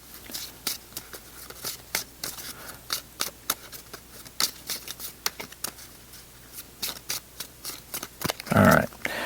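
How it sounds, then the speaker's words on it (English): Arkham Horror playing cards being shuffled by hand, a run of crisp riffling flicks and taps in an irregular rhythm, close and clear with no talk, ending in a louder burst of card noise. "so let me shuffle these real quick"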